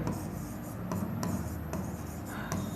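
Marker or chalk writing on a board during a maths lesson, a continuous scratchy rubbing with short strokes, fairly faint against a steady background hiss.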